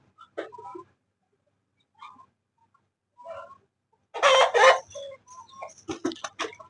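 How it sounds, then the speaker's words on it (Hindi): A rooster and hens cluck in short, scattered bursts, with a louder squawking flurry midway as the rooster climbs onto a cooler, close by in an otherwise quiet setting. "ये मुर्गा चढ़ गया ऊपर, कूलर के ऊपर चढ़ गया"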